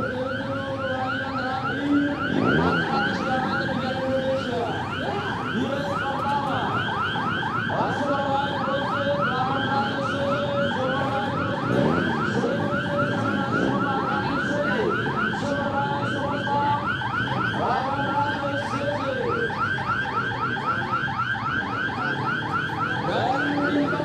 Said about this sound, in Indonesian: Alarm sudah berbunyi.